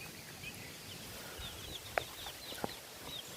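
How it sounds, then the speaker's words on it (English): Baby chickens in a coop making scattered clucks and a couple of sharp peeps over a steady background hiss, close by and with no voices. "Keep watching these chickens."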